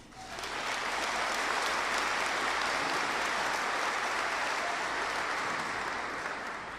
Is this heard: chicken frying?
no